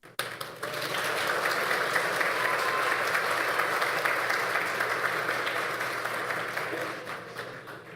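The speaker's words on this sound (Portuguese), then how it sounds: "Uma salva de palmas para a senhora Marisley" A room full of people applauds steadily at a formal council ceremony, a sustained wash of clapping that swells quickly and tapers slightly toward the end.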